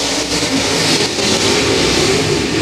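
Modified race cars roaring around the dirt oval at Humboldt Speedway in a loud, continuous engine drone that rises and swells as the pack passes close by.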